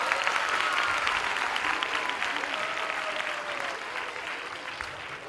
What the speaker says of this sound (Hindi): एक जोरदार ताली इनके लिए।